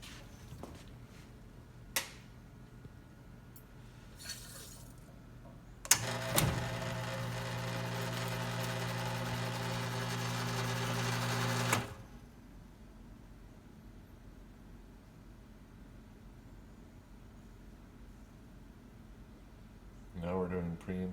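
A Quickmill Achille espresso machine, freshly tuned up, pulls a shot: a steady pump hum with a buzzing tone runs for about six seconds during pre-infusion, framed by quiet room tone and a few faint clicks.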